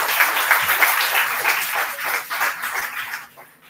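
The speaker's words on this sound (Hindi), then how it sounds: "एक बार जोरदार तालियां आप अपने लिए" A crowd applauds loudly and steadily, dense clapping that tapers off toward the end.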